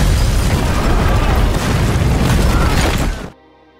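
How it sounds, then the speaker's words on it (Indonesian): A bomb explosion in an action film erupts as a loud, sustained boom with rumbling debris that rolls on for about three seconds before cutting abruptly to near silence. "di sana sudah disiapkan sebuah bom yang siap meledak"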